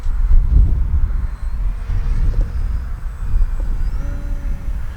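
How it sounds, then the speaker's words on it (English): A stock HobbyZone Carbon Cub S2 RC plane takes off from grass in wind, its small electric motor and propeller giving a steady, fairly close drone over rumbling wind noise, with a faint whine rising in pitch near the end. "All right, we're going to take off from the grass."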